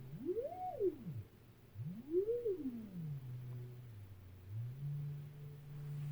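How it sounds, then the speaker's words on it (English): A quiet sine wave tone from a Snazzy FX DroneBank synthesizer module sweeps up and down twice in smooth arcs, then settles into a low steady hum that steps slightly in pitch. "This is sine wave."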